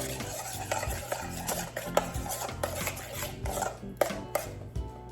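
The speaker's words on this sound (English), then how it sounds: "Let me get something else to stir it with so it's not so loud." A utensil scraping and clinking around inside a bowl of meatloaf mixture, steady stirring with irregular sharp taps against the sides.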